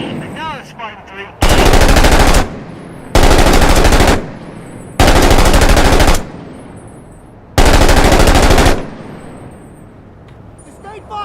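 Sustained machine gun fire in Six Days in Fallujah comes in four long, loud, close bursts separated by short pauses, with faint radio-style chatter before the first burst and after the last.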